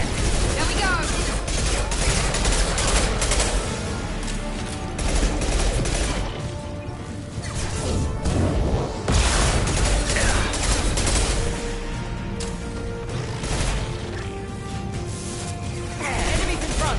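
Sustained firefight in the video game Mass Effect 2, with dense rapid gunshots and bursts of automatic fire mixed with crashes and clanks, and speech woven among the shooting.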